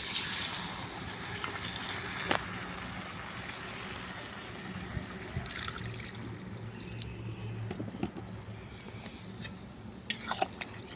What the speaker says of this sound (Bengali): এবার আমি পানিটা দিয়ে দেবো।